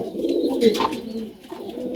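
Pigeons in a loft where the birds are sitting on eggs give a low, continuous cooing murmur, steady and close, with no talking.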